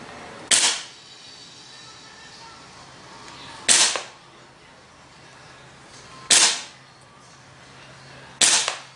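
Four sharp, loud shots from an airsoft Desert Eagle .50AE replica pistol firing BBs, evenly spaced a few seconds apart, each a crisp isolated crack with a short tail over a quiet room background.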